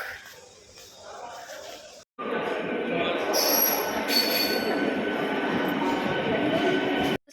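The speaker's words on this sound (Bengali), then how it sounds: "তো এখন ট্রেন আসছে" A train pulls into a station on a hot day: after a brief hush, a loud, sustained rumble of wheels and rail noise rolls in, with high metallic squeals of the wheels cutting through and continuing close by.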